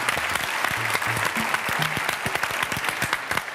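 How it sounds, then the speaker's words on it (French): A studio audience at a French live comedy show applauds a guest, continuous clapping heard close, with a few faint voices underneath. "Je vous demande d'applaudir Michel Firmin"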